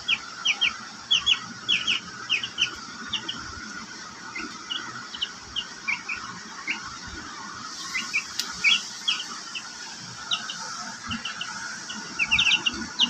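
Chickens and chicks raised indoors cluck and peep in a busy, continuous chorus, high chick chirps scattered in quick bursts over low clucking and rustling nearby.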